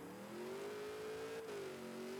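A race car in the video game Wilder World, Midnight in Wiami, accelerating at speed: a steady rising engine drone that climbs in pitch, dips briefly as if lifting off, then pulls on again, close and continuous.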